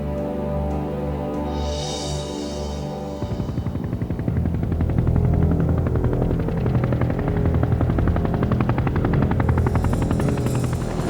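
A Marine Corps Super Cobra attack helicopter, first a low steady whine and hum, then a loud, rapid rotor chop that throbs continuously to the end, with no talking.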